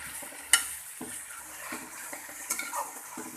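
Achari okra cooks in oil with yogurt in a pan, giving a soft sizzle with occasional spoon scrapes and taps against the pot, fairly quiet and without talk.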